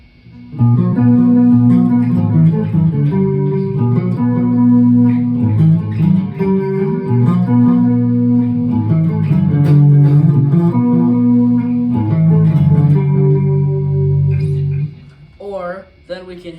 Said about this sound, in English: do some clean stuff,